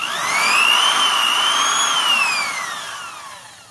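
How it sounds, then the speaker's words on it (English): A Milwaukee corded screw shooter motor whines up to a high, steady pitch close by, holds for a couple of seconds, then winds down as it coasts to a stop, heard alone. "This is a genuine Milwaukee screw shooter"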